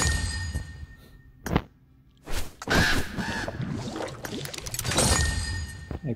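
Crows caw repeatedly during a Blood Raven X-Suit crate opening in a mobile shooter game, mixed with clunks, whooshes and other game effects at moderate loudness, no speech.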